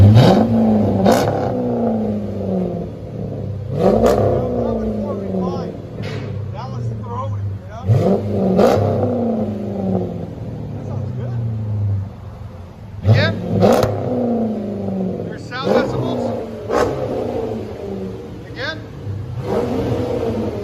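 A Chrysler 300C with a 5.7L HEMI V8 and aftermarket exhaust revs repeatedly, each loud throttle blip rising and falling in a series of roughly evenly spaced bursts, close to the car.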